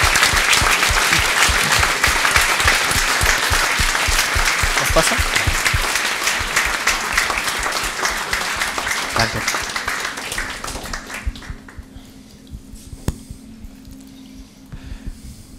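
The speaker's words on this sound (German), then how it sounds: "vielleicht erstmal Applaus für unsere Gäste" An audience at a German panel discussion on regulating legal tech applauds its guests: dense, loud clapping fills the room for about ten seconds, then fades away, with a few brief spoken words near the end.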